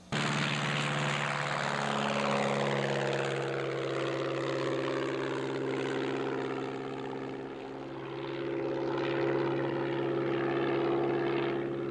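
A small chartered propeller airplane flying between Santa Fe and Los Angeles, its steady engine drone and harmonic propeller hum loud and continuous throughout, with a slight dip midway before swelling again.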